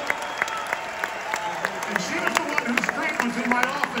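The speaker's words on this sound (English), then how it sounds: "I would like you to give a round of applause, please" A concert audience at the Hard Rock in Hollywood, Florida applauds with dense, continuous clapping and crowd noise, some cheers and voices mixed in close by.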